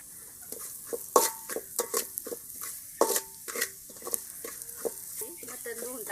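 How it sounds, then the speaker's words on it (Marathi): Spoon stirring masala with salt and turmeric in a pan for a village-style sheep mutton curry, scraping and clinking in repeated strokes over a steady close sizzle, loud and alone. "मीठ टाकलं, थोडंसं हलवून घेऊ."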